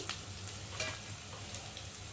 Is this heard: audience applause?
no